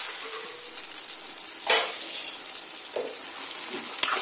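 Pork and taro leaves fry in a pan, giving a soft continuous sizzle broken by a few short scraping stirs, with no talking.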